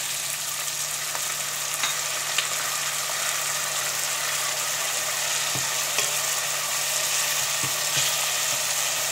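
Onions and tomatoes sautéing in a pan, a continuous even sizzle close by with a few sharp clicks of stirring and no voices.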